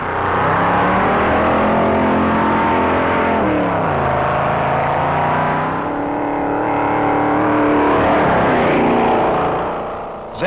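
A 1957 Pontiac race car tuned by John Zink's crew, speeding along Daytona Beach: a loud, sustained engine roar that swells, dips and shifts pitch as it passes close by, rising again before it fades away.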